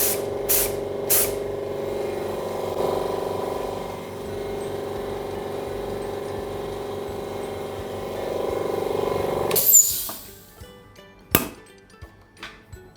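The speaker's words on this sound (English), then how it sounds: "Then after that, spray a little bit on one side" Colour is sprayed onto one side of a chocolate mold as a long, steady hiss lasting several seconds, followed by a few sharp clinks and taps.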